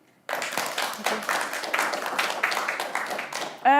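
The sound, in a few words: audience applause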